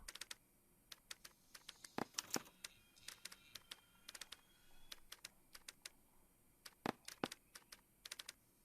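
Keyboard typing in the LA Noire game, crisp irregular clusters of clicks in quick bursts with short pauses, fairly quiet and close.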